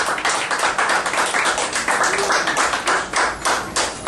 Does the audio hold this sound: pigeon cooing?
no